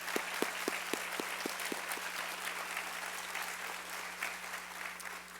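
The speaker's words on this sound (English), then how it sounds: "Let's give all of them a big round of applause" An audience at a welcome ceremony applauds: a few slow, evenly spaced claps at the start swell into steady, dense clapping from a crowd that continues to the end.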